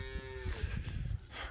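A dairy cow that has not yet calved moos once, fairly close and loud, in a village farmyard over a low rumbling background.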